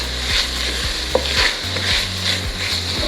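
Garlic sautés with cooked-down vegetables for shrimp creole, giving a loud, close, continuous sizzle with rhythmic spoon strokes scraping through the pan and a single light knock, with no voices.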